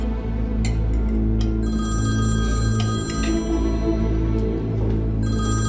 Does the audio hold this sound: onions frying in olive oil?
no